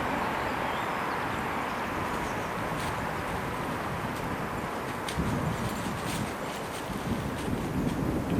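Steady outdoor wind buffets the microphone during macro photography outdoors, a broad continuous rushing roar with gusts that swell louder in the second half, no voices present.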